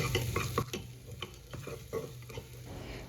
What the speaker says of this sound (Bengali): এবার পেঁয়াজটা ভাজবো, খুব বেশিক্ষণ না, তবুও পেঁয়াজটা একটু ভালোই ভাজতে হবে।